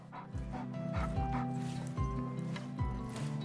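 A sled dog barks repeatedly in short, steady yips and woofs at close range, with a few whimpery notes among the barks over a continuous background.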